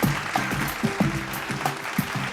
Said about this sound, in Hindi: जोरदार तालियां हो जाए फॉर दिस लवली कपल।